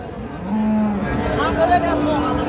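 A cow at a cattle market gives a single drawn-out moo, close and fairly loud, rising and then holding over a couple of seconds.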